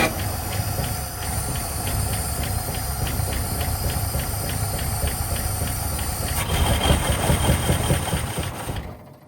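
A 1959 Cadillac engine that has sat unused for years runs roughly and steadily with a hissing, rattling texture, and the noise swells louder near the end before cutting off abruptly.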